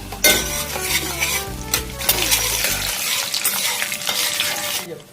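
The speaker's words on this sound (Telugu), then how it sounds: "ఆవాలు మినపప్పు వేసా, జీలకర్ర వేస్తున్నాను" Mustard seeds, urad dal and cumin sizzle and crackle steadily in hot oil for a tempering. A few stirring clatters of a utensil come near the start over the continuous frying hiss.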